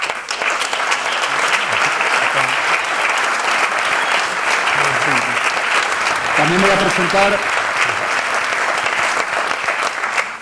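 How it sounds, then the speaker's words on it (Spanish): Audience applause at a Real Club Deportivo book presentation event honouring an author, a sustained, dense wash of clapping filling the room throughout, with a voice speaking briefly over it. "Un aplauso para Rubén."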